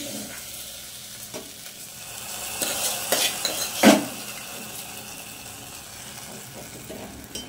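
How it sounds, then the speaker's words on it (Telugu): A spoon scrapes and stirs jaggery payasam with vermicelli in a pot on the stove, soft bubbling under a few louder scraping clatters midway, close and without talk. "దీన్ని తిప్పుతూనే ఉండాలండి,"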